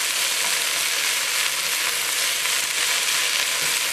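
Jute mallow (mulukhiya) leaves frying in a pan in a batch, a steady close, loud sizzle with dense crackling throughout and no voices.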